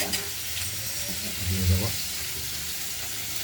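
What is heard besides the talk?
spice paste frying in oil for fish curry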